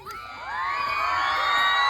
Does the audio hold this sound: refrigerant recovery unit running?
no